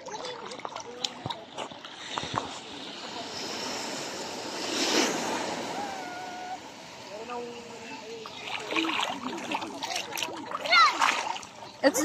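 Ocean waves wash onto a sandy beach with splashing surf and rushing water, rising and falling across the stretch while a child and a parent talk nearby.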